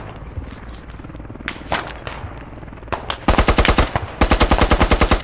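Rapid machine gun bursts in the tactical shooter Squad, loud and close, opening with scattered shots and distant gunfire before sustained fast rattling volleys in two long strings.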